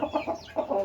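Young rooster of about two and a half to three months, with a bent comb, clucking while held in the hand: a run of short, close, rhythmic clucks with a brief gap in the middle.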